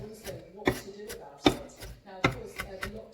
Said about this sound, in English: Just make sure you cut it into small little dices.